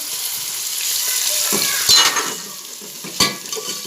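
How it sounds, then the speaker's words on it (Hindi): Onions sizzling as they fry in oil in a pan, with stirring and a couple of sharp clinks of a utensil, fairly close and steady. "अब हम प्याज काटे और उसके अंदर ऑयल डाल के इनको फ्राई करेंगे"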